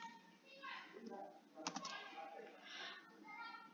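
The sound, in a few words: typing a formula on a computer keyboard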